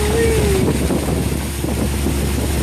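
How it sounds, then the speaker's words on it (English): A yacht cruises at about 20 miles an hour on Lake Lanier, Georgia, a loud, steady engine rumble mixed with rushing water and heavy wind buffeting across the microphone. "Yachts cruising at 20 miles an hour."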